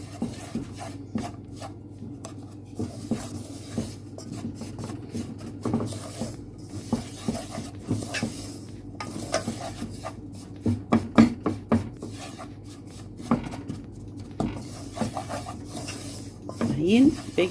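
Flour is stirred into melted butter over low heat, giving a steady scraping and rasping of a spoon against the pan with irregular taps, close up while a voice talks intermittently.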